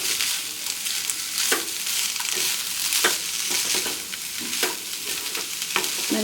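A spoon scrapes and stirs chicken filling seasoned with black pepper and garam masala in a hot pan. Close, irregular scraping strokes sound over a constant bright sizzle, with no voices.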